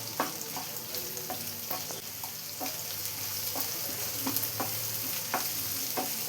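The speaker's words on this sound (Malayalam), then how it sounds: "ഇനി ഇതെല്ലാം കൂടി നന്നായി തന്നെ ഒന്ന് വഴറ്റിയെടുക്കാം" Crushed ginger, garlic and green chillies sizzle in a hot pan for a Kerala prawn dish, a steady close frying hiss broken by regular scraping taps of a spatula stirring.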